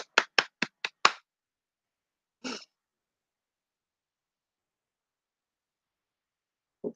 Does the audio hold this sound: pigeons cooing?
no